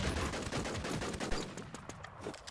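Rapid bursts of automatic gunfire in a shooting video game, loud and close with overlapping shots that trail off toward the end.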